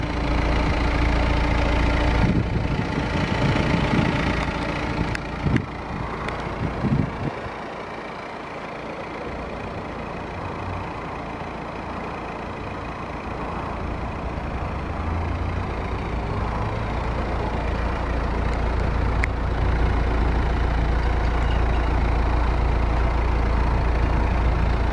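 A 2016 BMW 420d Gran Coupe xDrive M Sport diesel idles after start-up, a steady low rumble held throughout with a brief disturbance early on and no talking.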